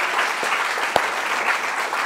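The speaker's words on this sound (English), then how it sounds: "can we give her a big round of applause?" Steady applause from an awards ceremony audience, dense and even for about two seconds, with a single sharper clap standing out near the middle.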